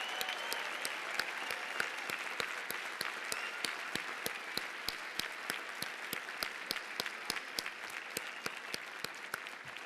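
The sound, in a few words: audience applause at graduate commencement ceremony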